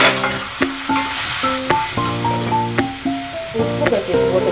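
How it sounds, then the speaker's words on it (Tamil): Tomatoes sauté with onions in a pan, a loud, steady sizzle and hiss with a spoon stirring, while tonal music plays over it. "தக்காளி போட்டு நல்லா வதக்கிறேன்."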